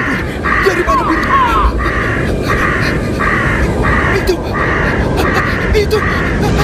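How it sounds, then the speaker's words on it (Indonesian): A flock of birds caws loudly in an animated story about an army with elephants. The harsh calls come in rapid, rhythmic bursts over agitated shouting voices and a dense, roaring background. "Ya ampun, dari mana burung?"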